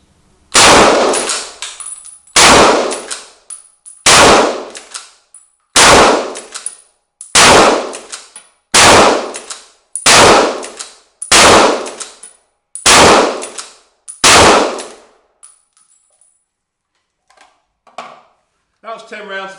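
Browning Maral straight-pull rifle fires ten .30-06 rounds, 150 grain, outdoors: loud, sharp shots spaced about every one and a half seconds, each trailing a long decaying echo, followed by a few faint rustles.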